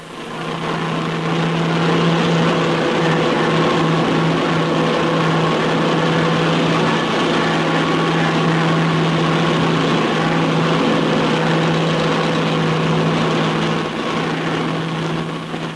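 Short Sunderland flying boat's piston engines droning steadily in flight over frozen Greenland wastes, a loud, continuous hum with a strong low tone and no break throughout.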